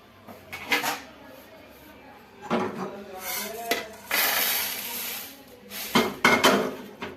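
Dry-roasted multigrain cereal for homemade baby food is scraped and tipped from a pan into another bowl, making bursts of rattling and metallic scraping, with someone talking over it.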